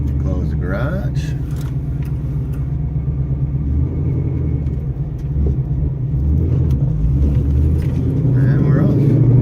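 A 2015 Ford Mustang GT race car idles with a deep, steady engine rumble inside a garage, loud and close, with a voice talking over it.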